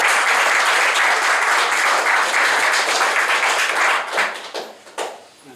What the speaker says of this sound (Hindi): परमेश्वर के लिए तालियां बजा सकते हैं